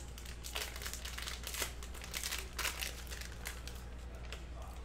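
Foil packs of basketball trading cards being torn open and handled: close, continuous crinkling and rustling of wrappers with sharper tearing bursts, alone and fairly quiet.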